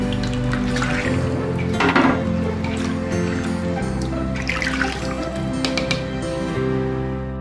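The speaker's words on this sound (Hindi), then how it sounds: "राइस को मैंने स्टेनर में डाल दिया था ताकि सारा एक्सेस वाटर जो है स्टेन हो जाए" Excess water drains from rice in a kitchen strainer, a close, continuous trickle and dribble over a low background hum, with brief splashy bursts and faint clinks of cookware.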